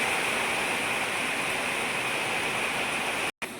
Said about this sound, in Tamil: வீட்டு வாசலில் தான் உள்ளே வந்துருக்கு பாருங்க தண்ணி, எவ்வளோ தண்ணி வந்துருச்சு. செம்ம மழை.